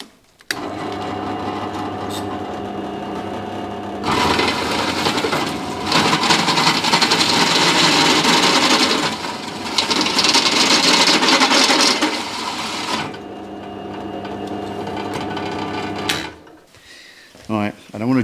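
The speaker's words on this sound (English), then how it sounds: "drill one of these holes out big enough and try and empty them all out" A steady mechanical whine of a drill boring a hole in metal on a motorcycle swingarm, grinding loudly for long stretches with brief pauses and some handling clatter near the end.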